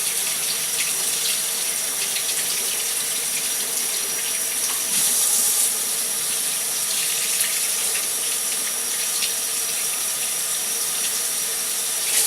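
A tap runs steadily while hands are rinsed under it, producing a continuous close splashing hiss of water into a sink that holds the same level for the whole stretch.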